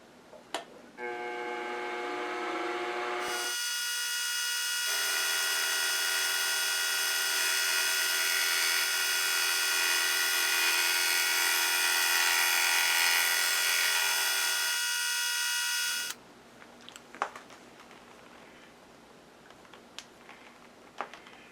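A milling machine cutting aluminum with a 2 flute cutter gives a sustained, steady high-pitched whine for about twelve seconds, close and loud, with quieter machine hum and clatter before and after.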